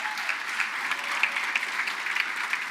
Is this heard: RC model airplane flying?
no